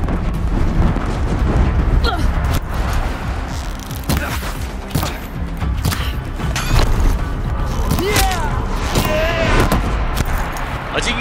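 Machine gunfire and missile explosions from the video game Horizon Zero Dawn, dense and loud with continuous rattling bursts and booms, under someone talking throughout.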